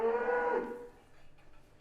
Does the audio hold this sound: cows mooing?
yes